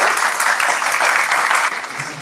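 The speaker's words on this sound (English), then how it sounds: "I'd like you to give him a round of applause" An audience at a gay health forum gives a round of applause, a loud, steady patter of many hands clapping close by for a couple of seconds.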